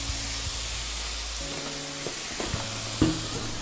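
Food browning in oil in a pan for lasagna bolognese, a constant broadband sizzle, close by, with a low hum underneath and a few faint knocks near the end.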